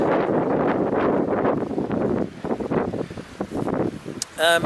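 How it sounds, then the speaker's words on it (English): Winter wind buffeting the microphone on a path at Lyme Park, a loud steady rumbling gust that eases off partway through, with a voice speaking over it. "Try and get out of the wind."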